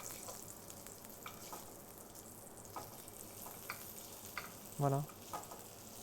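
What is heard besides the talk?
confit garlic halves sizzling as they are reheated in a pan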